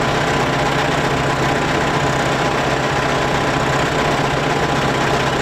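An F-35B jet engine runs on a Royal Air Force airfield, a loud unbroken roar with a steady low hum and hiss, close and without any voices.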